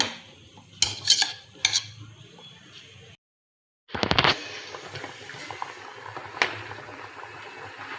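Spoon or utensil clinks and stirring against a bowl set over hot water while soap base cubes melt, with a few sharp knocks, a brief silent gap, and quiet background noise.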